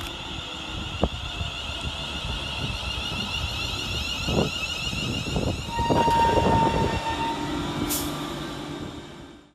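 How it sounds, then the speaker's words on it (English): A West Midlands Railway Class 350 electric multiple unit rolls into Stechford station, a steady rumble of wheels with brake squeal and rising noise as it draws close, a brief high tone near the end. "here comes our train into the station in the form of 350-252"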